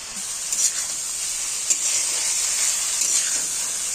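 Fried potatoes and soybean chunks hiss in a pan with spices and a little asafoetida, a constant loud sizzle with a few soft stirring knocks, close by and without speech.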